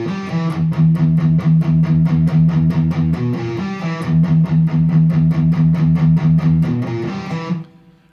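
Electric guitar plays the next riff of a song, a steady run of rapid picked notes repeated in two phrases, loud and close with no talking, ending with a ringing chord that fades.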